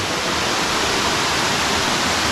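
Crabtree Falls on the Blue Ridge Parkway pours and cascades down rocks in a dense, steady rush of water heard close up, with no voices.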